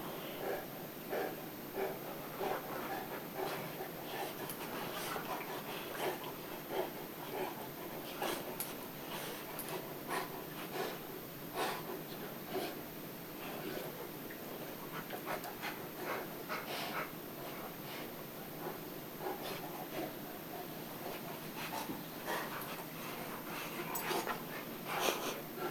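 Dogs pant and snort at close range in continuous, rapid breathing with snuffly bursts, one dog lying on top of another during play.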